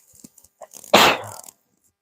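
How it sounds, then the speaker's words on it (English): A single sharp human sneeze bursts out after a few quick breathy intakes in a quiet room. "I might have to sneeze here."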